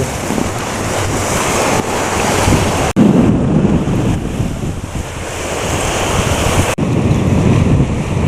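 Sea waves washing onto the shore at Bang Pu, Samut Prakan, along a seaside road where the water is murky. A continuous, loud surf roar is mixed with strong wind buffeting the microphone, with no voices.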